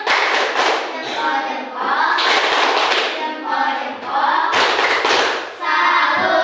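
A class performs a rhythmic patterned salute clap, repeated bursts of unison claps and slaps in a set pattern with short pauses between phrases, loud and close in a classroom.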